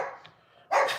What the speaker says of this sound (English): Stop barking, bud. What are you barking at?